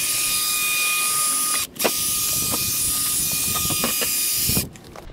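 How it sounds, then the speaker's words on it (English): A drill-driven brush whirs against a tire during wheel detailing, a steady mechanical hum broken by two brief pauses, with scattered scrubbing clicks and spray hiss close by. "I'm gonna show you how I clean it with the drill brush."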